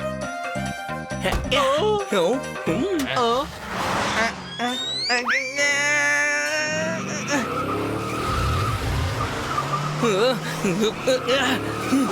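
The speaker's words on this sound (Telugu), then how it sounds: "నేను కారు నడపడం మొదలు పెడతాను." A cartoon car drives amid tire squeals and skidding whooshes, with busy music and effects swelling and fading throughout.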